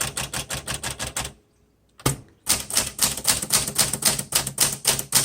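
A 1960s Smith Corona Galaxie typewriter is typed on in quick, even keystroke bursts, close and crisp, with a short pause partway before the clatter resumes at a steady rhythm.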